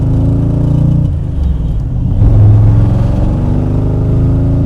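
A 1966 Chevrolet Corvette with a 427 V8 on modern radial tires works through S-curves, its deep engine note dipping briefly then rising into a strong, close revving pull that holds steady.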